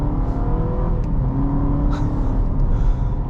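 A 2023 Honda Civic Hybrid accelerates, with a loud, steady engine drone and road rumble heard from inside the cabin, no talk.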